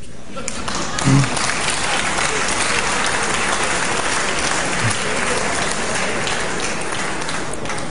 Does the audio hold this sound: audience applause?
yes